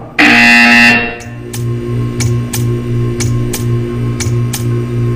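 A loud electronic buzzer blares once in Portal 2, a harsh tonal burst lasting about a second, followed by a series of evenly spaced ticks over a low mechanical hum.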